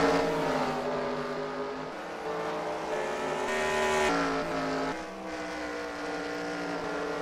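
Race cars roaring steadily around Knoxville Raceway during a crank-it-up session, a dense layered engine drone with rising and falling pitch as cars pass, loud and continuous with no talk.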